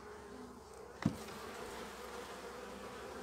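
A steady, close insect buzz fills the inside of a beehive, with a brief knock or bump near the start and a dense hum underneath throughout.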